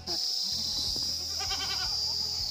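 A goat bleats among farm animals kept with cows and buffaloes in a hillside village, with a wavering bleat in the middle standing out over a steady high insect-like hum and low background noise.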